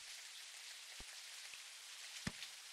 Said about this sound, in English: I'm gonna turn that rain up a lot.